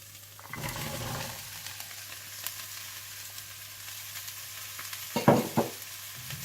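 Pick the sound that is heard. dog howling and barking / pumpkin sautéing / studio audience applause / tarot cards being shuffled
pumpkin sautéing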